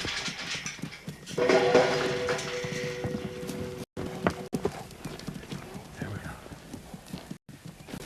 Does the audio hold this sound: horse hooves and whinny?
yes